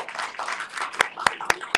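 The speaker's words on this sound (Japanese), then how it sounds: "皆さん、大拍手お願いします" An audience at a school lecture gives a short round of applause, soft scattered clapping ending in a few distinct, evenly spaced claps.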